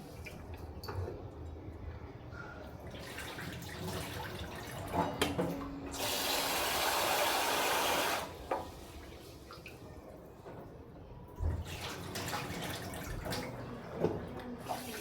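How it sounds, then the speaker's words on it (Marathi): Rice being washed in a pot of water in a home kitchen: running water from a tap, a steadier pour in the middle, with sloshing, splashing and dripping close by, no one speaking. "तांदूळ पण एकदा चांगलं पाणी धुवून घेते"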